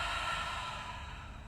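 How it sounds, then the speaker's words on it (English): A slow, steady exhale breathed out through the mouth during a guided body-scan meditation, a soft airy rush lasting over a second and fading slightly toward the end, close and alone with no talk. "and exhale through the mouth."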